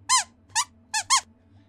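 Four short squeaks from the robot character Squeaks in a kids' science show, bright and close, grouped as one, then one, then two in quick succession, alone over a faint low background hum.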